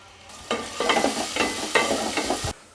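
Chopped onion and green chilli sizzle loudly in three tablespoons of hot oil in a pot for mutton curry, with repeated stirring scrapes and crackling throughout, no talking.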